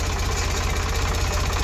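An Eicher 5660 tractor engine runs steadily nearby, a loud, even low chug with a regular knocking pulse and constant mechanical rumble throughout.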